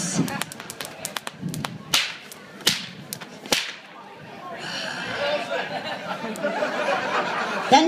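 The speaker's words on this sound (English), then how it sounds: "my sister brings in the whips!" Whips crack sharply several times in an uneven rhythm, loud and close, then a crowd bursts into laughter and chatter that carries to the end.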